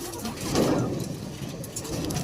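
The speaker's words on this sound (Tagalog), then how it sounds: "So ito sila Braco at si Lady Choco mga kalapatids" Breeding pigeons in a loft give soft, low cooing, one swelling coo standing out near the middle over a steady background hum.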